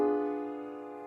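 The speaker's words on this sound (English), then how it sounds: "the fully diminished seventh chord in minor we see all over the place" A fully diminished seventh chord in a minor key sounds once as a single sustained keyboard-like chord, struck firmly and left to ring and slowly fade, alone with no talking.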